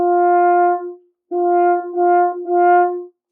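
A French horn sounds a normal natural note: one long sustained tone, then three shorter repeated notes at the same pitch, clear and close with no other sounds.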